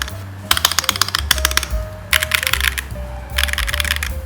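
Typing on an Akko ACR Pro Alice Plus mechanical keyboard, bursts of rapid, clacky keystrokes in quick runs separated by short pauses, close and clear over a faint low hum.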